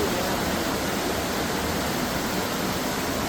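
A mountain river flows with a steady, dense, even rush of water. It sounds close and constant, with no voices.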